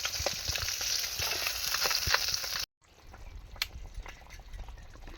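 Fish frying in a pan, a loud sizzling crackle that cuts out abruptly midway and resumes softer with light scraping and pops.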